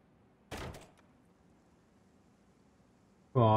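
In the video game Quantum Break, a door is forced open with one sharp heavy thunk and brief rattle, followed by near silence and then an abrupt loud burst at the end.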